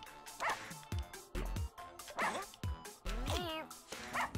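Cartoonish dogs in the game Russian Subway Dogs bark and yip in quick repeated bursts, about eight short loud barks with pitch-bending whines between them, near and clear.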